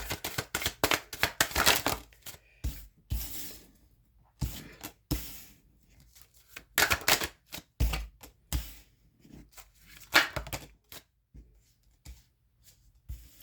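Tarot cards are pulled out and handled close up, making irregular bursts of crisp shuffling, flicking and papery rustling separated by short quiet gaps, with no talking.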